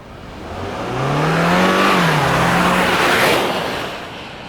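A 2026 Hyundai Palisade Hybrid Calligraphy SUV driving, its engine note swelling up and easing off again while road noise builds and fades across a few seconds.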